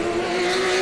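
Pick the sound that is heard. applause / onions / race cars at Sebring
race cars at Sebring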